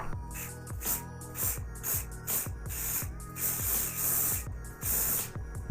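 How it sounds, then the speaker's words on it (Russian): Aerosol water-repellent shoe spray hissing in repeated bursts of varying length, close and loud, with short pauses between sprays. "Распыление по-разному. Там более точечно, а здесь во все стороны."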